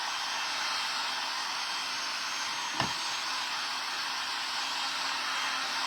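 Steady, loud hair dryer blowing on a silkscreened canvas tote bag to heat set the ink, a continuous broadband whoosh running alone with one brief faint click midway.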